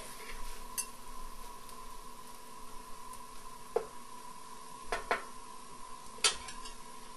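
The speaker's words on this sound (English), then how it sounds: "Give that a good stir around. Mix the onion mixture into the Curry Magic." Spoon stirring an onion mixture into Curry Magic in a cooking pot, giving faint scrapes and a few sharp clinks against the pot over a steady low hum.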